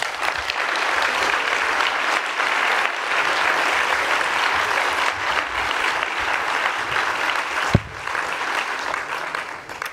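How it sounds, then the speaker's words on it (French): Sustained, dense audience applause at the closing of a science event fills the room evenly and loudly for the whole stretch, with one sharp knock partway through. "je pense qu'on peut les applaudir très fort"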